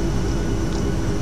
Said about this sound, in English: the takeoff sound when this thing powered up was really nice